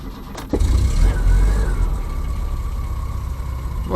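An old car engine catches and settles into a rough, rumbling idle on choke, close and loud, with a brief sharp clunk near the start.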